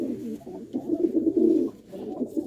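A Gurdaspur pigeon gives a low throaty coo, close and fairly loud, rising into a longer rolling phrase midway before trailing off, with no voices.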